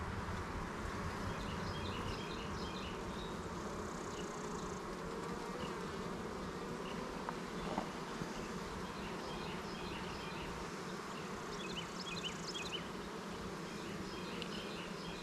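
Calm honey bees hum from an opened hive in a steady, low, continuous buzz, with no voices over it.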